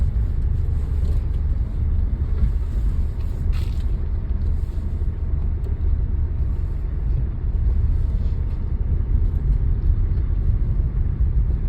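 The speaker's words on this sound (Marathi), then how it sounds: "रस्त्यावर नाही आली गाडी रस्त्यावर घे" A car drives along a road during a driving lesson, giving a steady low engine and road rumble with faint creaks throughout and no speech.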